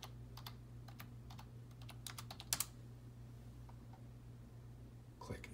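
Quick bursts of keystrokes on a computer keyboard as a name and date are entered into laboratory instrument software, light close clicks in irregular clusters with a pause, over a steady low equipment hum.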